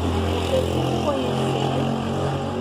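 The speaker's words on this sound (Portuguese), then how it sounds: "vocês não reparam que aqui é barulho de moto o tempo inteiro" Motorcycle engine outside a home, a steady drone with a faint rising whine partway through, heard from indoors at moderate distance with no talking.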